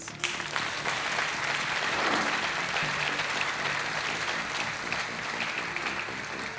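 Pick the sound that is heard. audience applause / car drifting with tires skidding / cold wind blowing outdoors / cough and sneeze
audience applause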